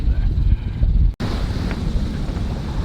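Wind blowing while sailing a boat out at sea, a loud, continuous buffeting roar against the microphone with a brief dropout partway through, no talk.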